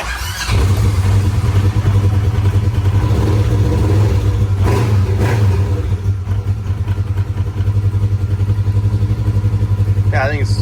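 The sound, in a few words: Polaris RZR XP 1000 engine idling after fuel pump fix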